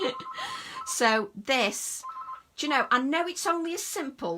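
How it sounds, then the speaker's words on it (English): A telephone rings in the background with a steady, repeating electronic tone, mostly beneath a voice as two women keep chatting over it. "I do apologise for the phone in the background"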